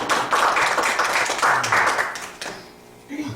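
Clapping from an audience at an education society's general assembly, a burst of many hands that fades out after a couple of seconds, with a voice breaking in at the end.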